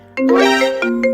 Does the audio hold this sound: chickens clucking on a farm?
no